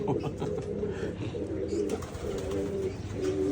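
Pigeons coo repeatedly in low, throaty rolling calls, several birds overlapping close by with a steady murmur of background noise.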